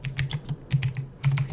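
Steady typing on a computer keyboard: quick bursts of crisp key clicks in uneven clusters with short pauses between runs, close-miked and with no talking.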